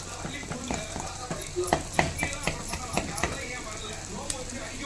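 Onions sautéing in a pan for a spicy idli kudal kuzhambu give a steady close sizzle, broken by repeated spatula taps and scrapes throughout.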